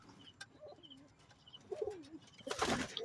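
Racing pigeons coo inside a loft in a few soft, rolling calls spaced apart. The cooing is close and fairly quiet. Brief flutters and a louder rustle of wings or movement come near the end.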